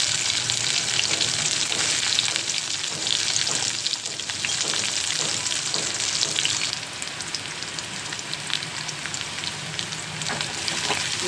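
Ginger garlic paste fries in hot oil in a pan while Malabar spinach fry is being made, giving a dense, loud, rain-like sizzle that runs continuously with faint stirring.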